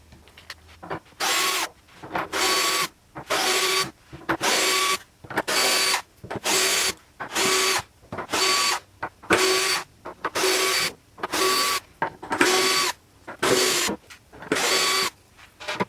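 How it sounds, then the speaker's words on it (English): Power screwdriver backing screws out of a ray gun display box, a regular run of about a dozen short whirring bursts of roughly a second each with brief pauses between, close and steady, no talk. "first of all, you've got to remove all the screws that are placed all along the outside"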